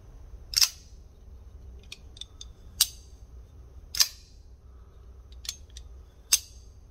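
CKF Evo folding knife blades flicked open and closed, several crisp metallic snaps with faint clicks and tings between them, close and isolated against quiet background.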